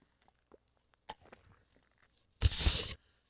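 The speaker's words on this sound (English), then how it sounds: "Let me open up my Gatorade." Faint handling clicks, then a Gatorade bottle cap is twisted open with a short, loud crackling snap of plastic near the end, heard close and alone.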